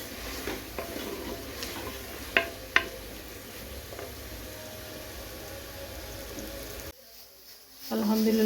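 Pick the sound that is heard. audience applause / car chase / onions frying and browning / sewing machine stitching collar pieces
onions frying and browning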